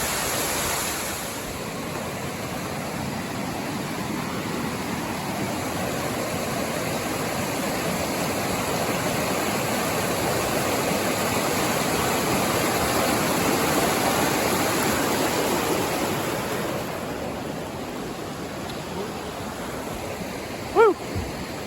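Ramona Falls near Mount Hood pours in a steady, even roar of falling water, close and continuous for the whole stretch, with a brief faint squeak near the end.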